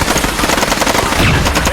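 Film gunfire from an Indian action movie rattles out as a loud, unbroken burst of rapid, machine-gun-like shots filling the whole moment.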